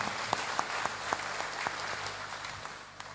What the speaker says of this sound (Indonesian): Tepuk tangan untuk panjenengan semuanya.